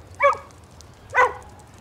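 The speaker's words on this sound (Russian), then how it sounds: "так это ж Жулька, Федина собака" A dog barking twice in a television melodrama, two short sharp barks about a second apart at moderate distance over a quiet background.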